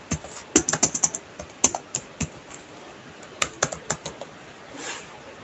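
Typing on a computer keyboard while entering Python code, a run of crisp close key clicks in quick bursts with short pauses between them, no voice.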